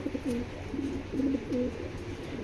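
Foreign-breed pigeons, a black chequer Janardan pair among them, cooing in repeated low throaty phrases, several rounds in quick succession close by, over a faint steady background hiss.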